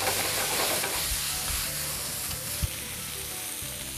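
Green onion and spinach sizzle steadily in a hot frying pan, a loud, continuous crackling hiss with a few soft knocks, close up and with no talking.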